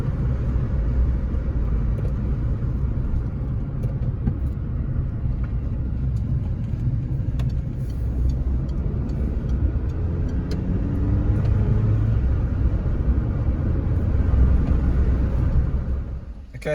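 A Citroen C2 with a newly installed clutch drives along steadily, its engine and road noise forming a continuous low rumble from inside the car that swells slightly toward the end.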